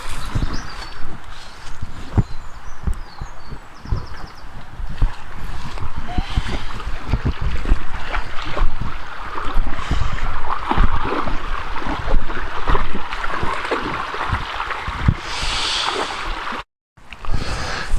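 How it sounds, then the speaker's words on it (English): A stream flows past stepping stones, a continuous close wash of rushing, babbling water with wind, outdoors, steady throughout before a brief dropout near the end. "Lovely stream which you can cross over,"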